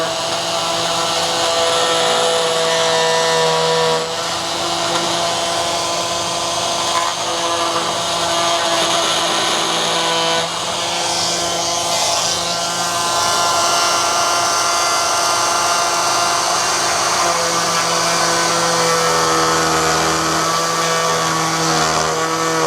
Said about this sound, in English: now I've got the oscillating tool